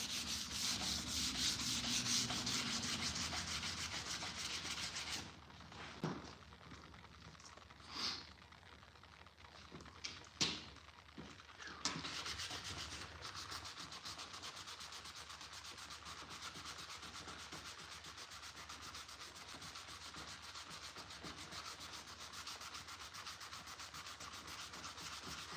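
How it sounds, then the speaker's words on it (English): Steady, continuous sanding in a garage, a broad hissing rub that runs almost the whole time, briefly interrupted by a few knocks and pauses before resuming at an even level, with no talking. "I'll get this thing completely sanded."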